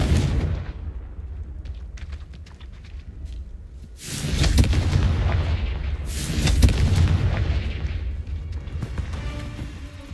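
Booming explosive blasts from the Confringo spell in Hogwarts Legacy, a low rumbling burst followed by a second heavy blast, each rolling out into a long loud decay after a quieter crackling lead-in.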